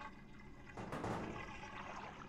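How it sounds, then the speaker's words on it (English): Footsteps wade through thick liquid in the Deadly Premonition video game, a faint, quiet sloshing and gurgling splash that swells briefly in the middle. "that is the sound of walking through something that is noticeably thicker than water"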